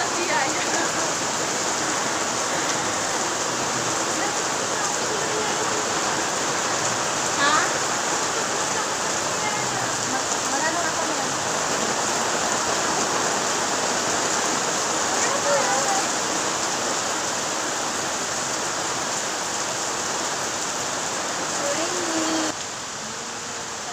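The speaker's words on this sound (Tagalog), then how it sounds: "Oh, lakas ng ulan dito, guys." Heavy typhoon rain pours down steadily in a constant, dense hiss of drops on surfaces close by, with faint voices occasionally underneath.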